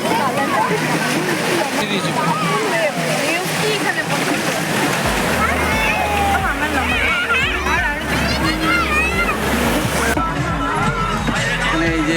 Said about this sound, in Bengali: এই যে মেরিনা বিচ